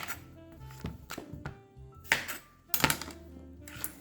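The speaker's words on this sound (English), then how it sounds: "So the first thing I'm gonna do is cut off the ends." A knife cuts the ends off a rinsed English cucumber on a board, giving a few sharp, isolated thunks and taps spaced apart, close and fairly quiet.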